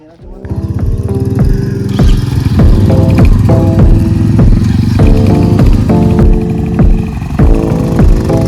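Motorcycle engines, including a Honda Highness CB350 and Royal Enfield Meteor 350, rumble and rev close by as the bikes start and leave, several running together with repeated throttle blips over a steady low drone.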